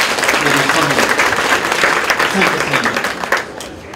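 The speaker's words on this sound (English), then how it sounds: "Let's give him a hand clap, please" An audience at a hotel opening in Machakos claps hands in a lively burst of applause, many hands together for a few seconds before tapering off, with voices mixed in.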